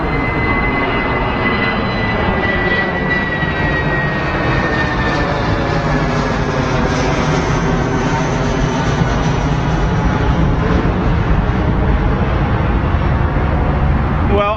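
A Lufthansa Airbus A319 jet makes a low departure from Heathrow Airport, a loud, continuous roaring engine rumble that holds steady throughout with a faint whine, while voices talk faintly underneath.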